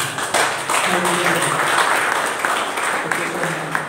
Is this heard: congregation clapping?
yes